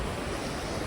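Sea waves washing in a steady, soft surf roar heard from a coastal road above the water in Macau, faint with some wind noise and no voices.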